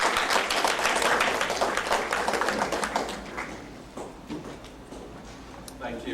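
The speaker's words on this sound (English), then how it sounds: "Let's give him a round of applause" An audience applauding a speaker at a conference opening session: dense clapping from a crowd that is loud at first and thins out toward the end, with a voice heard partway through.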